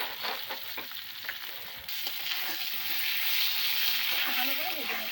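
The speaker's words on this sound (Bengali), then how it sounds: "আলুটা হালকা লাল লাল হয়ে এসেছে, আরো কিছুক্ষণ ভেজে নেব।" Potato pieces fry in a pan with salt and turmeric, a steady close sizzle with stirring scrapes that grows denser partway through, while someone talks over it.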